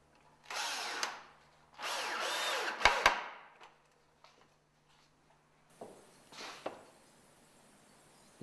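A power drill drives screws through glued track supports into wooden sleepers for a miniature railway platform, with two whirring bursts close by, then quieter, shorter runs after a pause.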